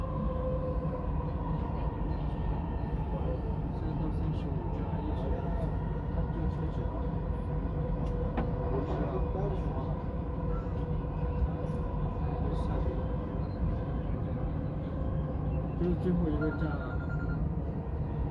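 A Dubai Metro Red Line train runs between stations, with a constant rumbling rail hum and steady tonal whine from the carriage interior, faint voices and announcements mixed underneath.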